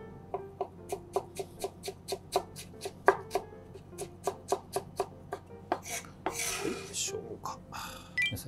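A knife cuts peeled ginger on a board, first into fine julienne strips and then crosswise, giving crisp, evenly spaced chops about twice a second before turning into quicker scraping and clatter, with a voice talking over it.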